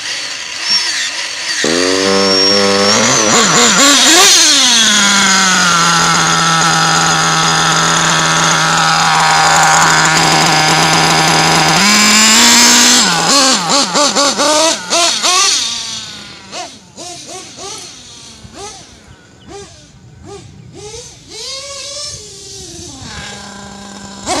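A modified Nova moped engine revs up to a loud, sustained high-pitched drone, holds it for several seconds, then drops to an uneven idle with blips of throttle, close and dominant.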